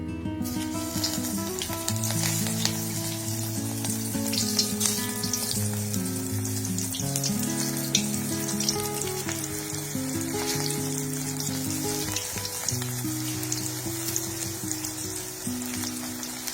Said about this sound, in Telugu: దీన్ని ఇప్పుడు మనం మళ్ళీ సెకండ్ టైం డీప్ ఫ్రై చేసుకోబోతున్నాం